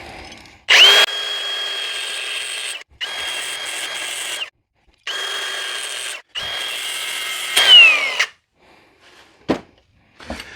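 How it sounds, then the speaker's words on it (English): A power tool cuts slots into a grade 8 steel bolt in four separate bursts of steady, loud high-pitched whine, each lasting about two seconds with short pauses between and a couple of brief clicks at the end. "I took this grade 8 bolt and I cut a line in it on both sides"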